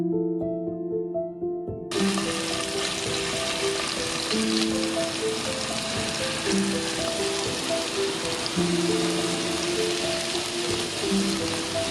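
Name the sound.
marinated fish frying in coconut oil in a pan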